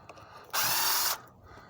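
A power drill unscrewing boards from a window, one loud whirring burst of about half a second, close by, preceded and followed by quiet handling noises.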